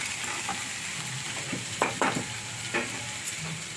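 Neem leaves and eggplant frying in a pan with salt, a steady sizzle under a spatula scraping and stirring in a few quick clustered strokes, close up.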